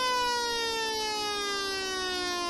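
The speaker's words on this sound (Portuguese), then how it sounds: "mostrando justamente a saída aqui da sirene" Brazilian siren wailing continuously and loudly, a rich harmonic tone slowly falling in pitch across the whole stretch with no gaps and no voices.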